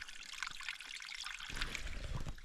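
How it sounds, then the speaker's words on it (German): A small outdoor stream trickles and babbles steadily nearby, a continuous watery wash with a slightly heavier, fuller flow in the second half. "Da ist ein kleiner Bach."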